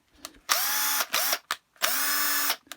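A small 10.8V cordless power tool undoes nuts and bolts in two loud, close whirring bursts, each about three-quarters of a second long, with short ratcheting clicks between them.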